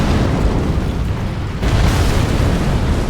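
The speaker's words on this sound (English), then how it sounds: "That is a whole wall of flames." A dense, roaring blast fills the space as the Furnace Golem boss in Elden Ring unleashes a wall of flames, a loud sustained whoosh that dips briefly midway and surges back.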